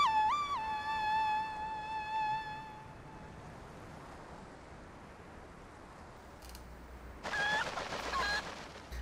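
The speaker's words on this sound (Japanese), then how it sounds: "ゴールデンコッコ" A golden cucco chicken in the video game Zelda Twilight Princess HD gives a short series of high squawking honks at the start, followed by quieter game ambience and a later bright burst of sound effects.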